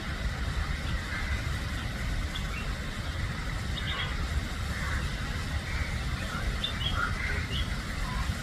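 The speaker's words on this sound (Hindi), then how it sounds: "और परिंदे की आवाज़, प्रकृति और संगीत का समावेश" Birds chirping in Empress Garden, Pune, during a flower festival, a few short tweets scattered over a steady wash of rushing water and distant traffic hum, moderately faint.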